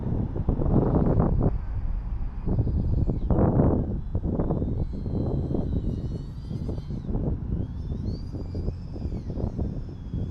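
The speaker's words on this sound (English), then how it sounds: "the wind is really pushing it a lot" Strong wind buffets a DJI Avata FPV drone fitted with Axis Flying C157 motors in flight, a loud continuous roar of wind rush with a faint whining motor tone riding above it.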